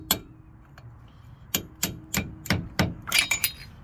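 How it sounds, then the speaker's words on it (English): Sharp metallic hammer blows on a punch while servicing a 2003 Ford Expedition front wheel bearing hub, about seven strikes coming in quick succession after a short pause, close and fairly loud. "So we're going to use a little punch here and a hammer."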